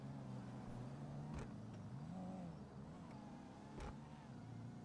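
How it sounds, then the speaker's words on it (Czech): A car drives past in a video game, its engine a steady mid-pitched hum that swells and bends in pitch, joined by a couple of short sharp knocks, moderately loud with no talking. "Nejaké auto jede, vole."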